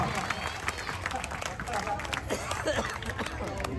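Audience at a public meeting in Nasriganj clapping for Subhash, a steady wash of claps mixed with crowd murmur and chatter throughout.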